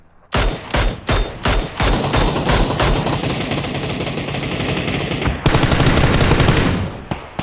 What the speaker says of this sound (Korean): 여기 능선 넘어서 쏘고 있어